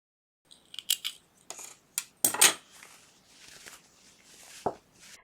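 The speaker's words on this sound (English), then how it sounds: "And cut these yarn tails." Scissors snip crochet yarn tails on an earflap beanie, several short, close clicks and crisp cuts spaced irregularly, with one louder, sharper snip in the middle and quiet handling rustle between them.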